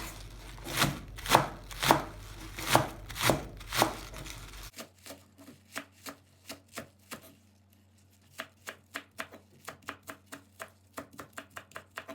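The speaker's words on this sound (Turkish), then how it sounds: "Şimdi böyle taze soğanın geri kalan yapraklarını da kesiyoruz." A knife chops the leafy green tops of spring onions against a board, first in several loud heavy strokes, then in a faster run of lighter, quieter cuts.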